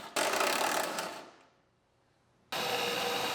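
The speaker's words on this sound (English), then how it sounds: "And drill some more spot welds." Drill cutting out spot welds on a 2015 Mustang chassis, a close, loud whir that spins down and stops, then starts again after a short quiet gap.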